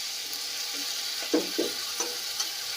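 A paste of onion, ginger and garlic fries in a pan while katla fish curry is being made. A steady, close sizzle sounds throughout, with a few soft stirring scrapes near the middle.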